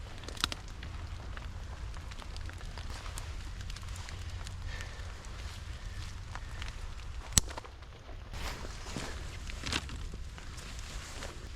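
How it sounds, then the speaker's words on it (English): Rain falls in the woods during a bushcraft campfire outing, a soft steady patter with scattered louder drips and one sharp tap, near and moderately quiet, with no talking. "it's raining a lot right now"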